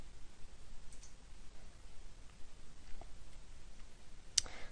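A single crisp computer mouse click lands near the end as a setting is saved in an OpenCart admin panel. Faint room hiss fills the rest.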